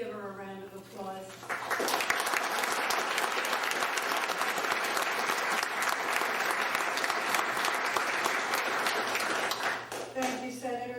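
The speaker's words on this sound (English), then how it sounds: "Please give her a round of applause." Warm audience applause for Sue Quinn at an HRAA New Jersey gathering, a thick steady roar of many clapping hands lasting several seconds, with a speaker's voice before and after.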